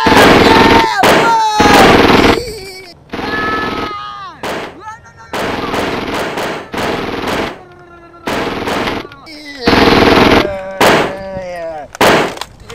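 Rapid bursts of gunfire, including a hunting rifle, ring out loud and close with echoing tails, spread across repeated volleys and single shots, with short quiet gaps between them.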